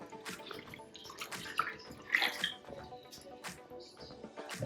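Water runs and splashes steadily across a floor during a post-construction flood test, a close, continuous wash with faint drips and gurgles and a few sharper splashes.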